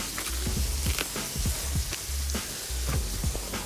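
Sliced bread rolls sizzle on a flat grill, a close, crackling fry punctuated by rhythmic low thumps and clatter.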